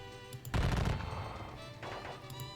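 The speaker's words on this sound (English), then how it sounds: "we are just going to keep on exchanging gunfire from here" Musket volleys ring out in a Gettysburg Civil War game, a loud crackling burst of massed gunfire followed by a second, fainter ripple of shots.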